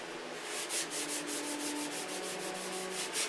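Steady back-and-forth rubbing of 600-grit sandpaper by hand on painted model aircraft work, a soft rhythmic hiss repeating about three times a second, close and even, with no voices.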